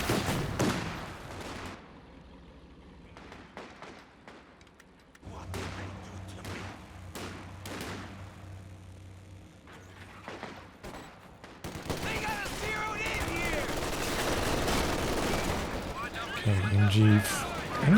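Rifle and machine-gun fire from the World War II strategy game Company of Heroes 2 during a tournament match, bursts of sharp shots and rattling fusillades under a caster's commentary, growing denser and louder toward the end.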